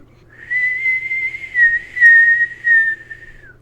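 A thin, steady whistling tone swells and wavers for a few seconds, then trails off, like a kettle whistle from a toy: a whistling teapot effect on a Remco Sound FX Machine.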